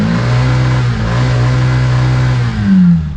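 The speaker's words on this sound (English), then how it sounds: "Let's have a listen to the rickshaw revving." A three-wheeled rickshaw's engine revs loudly and close, a steady buzzing drone that holds for a few seconds before rising in a brief surge near the end.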